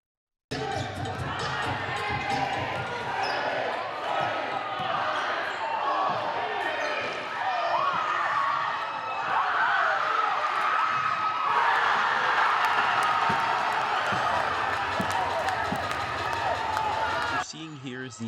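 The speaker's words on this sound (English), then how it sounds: "Here is the ending of the 2025 Panther Madness Students versus Faculty basketball matchup." At the 2025 Panther Madness students-versus-faculty basketball game, a ball bounces repeatedly on a gym floor amid sneaker squeaks and running feet. An excited crowd cheers, whoops and claps throughout, growing louder toward the finish before cutting off abruptly.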